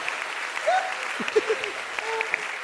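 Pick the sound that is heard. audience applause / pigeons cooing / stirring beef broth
audience applause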